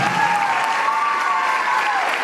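A crowd at a student award ceremony applauds to honour a young girl, giving a brief, loud, even burst of clapping with a faint tonal hum running underneath.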